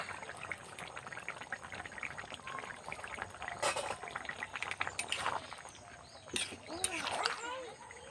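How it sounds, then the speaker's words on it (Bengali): Rohu fish simmers in a cauliflower curry, a continuous bubbling, sputtering hiss with a few louder splashy swells, heard close with a faint voice in the background. "এবার এটাতে আমি দিয়ে দেব মাছটা দিয়ে খানিকক্ষণ ফুটিয়ে নেব"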